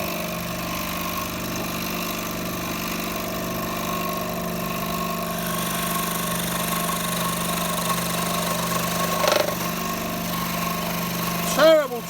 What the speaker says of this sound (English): Let's turn the speed up. This is going to get a little bit noisier.